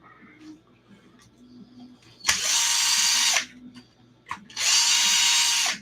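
A power drill whirs loudly in two short bursts, with quiet clicks and faint background sounds between them, during repair of an ARRMA Kraton 6S RC truck's center drive.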